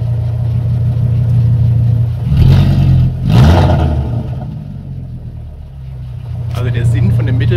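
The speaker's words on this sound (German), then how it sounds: "Geh mal kurz aufs Gas." A VW Golf IV with a V5 engine and a used replacement exhaust from the catalytic converter back idles in a steady low drone, then revs twice in quick swells before settling back to idle.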